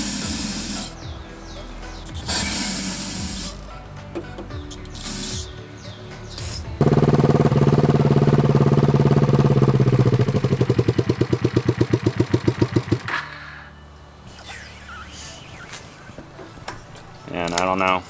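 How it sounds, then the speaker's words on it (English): Carb cleaner sprays in short bursts onto the carburettor of a Kawasaki Ninja 250, then the motorcycle engine fires and idles loudly for several seconds with a rapid, uneven putter before cutting out. "So we're gonna spray some more carb cleaner on it, see if that kind of fixes it."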